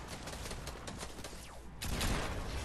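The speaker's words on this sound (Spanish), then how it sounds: "Tú sigue disparando, es la presión, sigue disparando" Rapid bursts of gunfire from a Fortnite Battle Royale match, dense repeated shots, loud and continuous, ending in a heavier blast of sustained fire.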